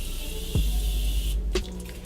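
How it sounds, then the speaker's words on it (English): A setting spray bottle gives two short, soft hissing puffs of fine mist about a second apart, close up, over a quiet room tone. "It's like such a fine mist and it's light."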